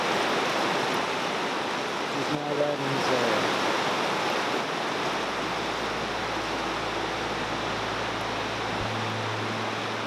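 Granite Rapids on the river in the Grand Canyon rushing in a loud, steady, broad roar that fills the whole stretch, with a person briefly speaking over it.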